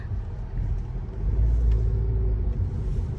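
A 2017 Honda Civic 1.5 hatchback with CVT accelerates, a low muffled engine rumble that swells mid-way and holds steady, heard from inside with no talking.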